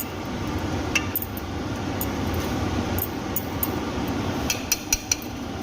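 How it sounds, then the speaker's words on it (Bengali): A spoon stirs khichuri in a cooking pot after ghee is added, giving a steady low scraping churn broken by a few sharp metallic clinks against the pot's rim near the end. "ঘি দিয়ে আর একটু ভালো করে নেড়ে নেব।"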